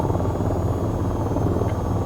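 Helicopter engine in a flight simulator game, a steady low droning rotor hum with a faint high whine, held constant and fairly close with no talking.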